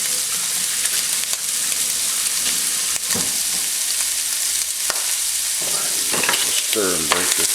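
Chili meat for a spicy cheesy chili lasagna fries in a pan as it is stirred and broken up; a constant loud sizzle carries irregular spoon scrapes and clacks, with no talking.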